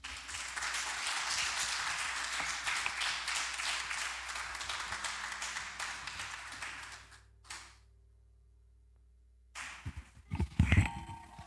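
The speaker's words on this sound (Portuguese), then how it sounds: "Aplaude a Jesus nesse momento." A church congregation claps together for about seven seconds, dense and lively, then it stops abruptly into silence before some scattered thumps and handling noise.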